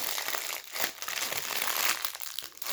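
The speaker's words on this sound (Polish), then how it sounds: "Teraz otwieramy folię." Plastic foil wrapper on a gummy candy pizza being pulled open, a continuous close, loud crinkling and crumpling with short pauses.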